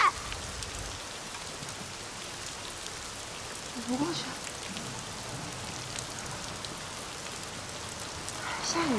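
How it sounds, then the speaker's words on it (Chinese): Steady rain falls outdoors as a constant soft hiss, while a few people speak in short lines over it. "下雨"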